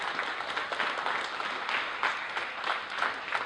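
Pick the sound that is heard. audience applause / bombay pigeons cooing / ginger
audience applause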